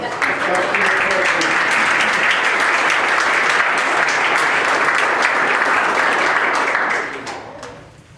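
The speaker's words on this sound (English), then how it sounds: "you guys clapped too early" Sustained applause from a crowd at an organizational meeting, loud and steady for several seconds, then tapering off toward the end.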